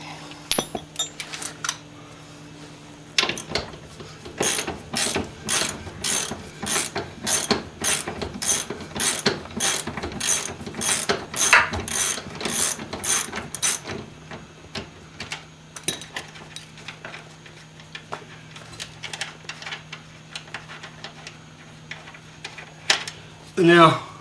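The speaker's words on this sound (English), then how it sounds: "I'm going to switch from a breaker bar to a ratchet" A ratchet turning a nut during a Mercedes 300D front-end rebuild clicks in a fast, steady run of sharp metallic clicks, pauses, then resumes in a few slower bursts, close by.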